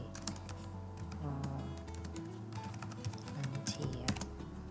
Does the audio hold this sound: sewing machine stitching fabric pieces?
no